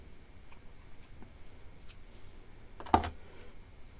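Cross-stitch embroidery thread snipped in half with scissors: a single sharp close snip near the end, otherwise quiet, with no talking.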